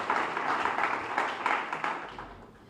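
Audience applause at an indoor welcome and mentorship event, a steady wash of many hands clapping for a few seconds before it fades out.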